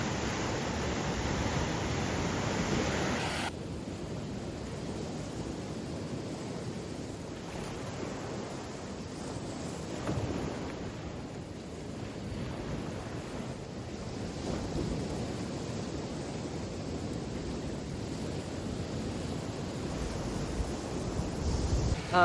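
Ocean surf washing onto a small, tiny beach, a steady broad rush of waves with wind buffeting the microphone throughout, continuous and fairly loud with no talking.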